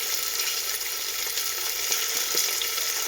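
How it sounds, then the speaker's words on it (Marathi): Ingredients for pea rice sauté in a hot pan, giving a steady, close sizzling and frying hiss with faint stirring, no talk. "आणि आता हे थोडा वेळ परतून देते मी."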